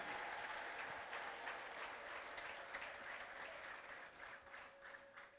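A church congregation clapping together, a sustained dense applause from many hands in a large room, with a faint tonal hum underneath and the clapping easing slightly toward the end.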